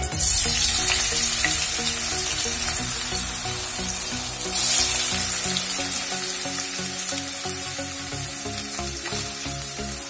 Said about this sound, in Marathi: आता आपण कढई ठेवली आहे, तेल गरम झालेलं आहे आणि सर्वप्रथम आपण थोडे आलू फ्राय करून घेऊया